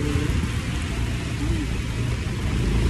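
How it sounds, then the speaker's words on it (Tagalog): Heavy rain pouring down in a dense, steady roar that fills the whole clip, loud and close, with a faint low rumble underneath and muffled voices mixed in. "Lakas ng ulan, no?"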